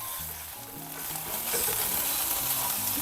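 A stuffed beef fillet fries in olive oil in a large frying pan, giving a continuous close sizzle that swells slightly louder partway through, with no talking.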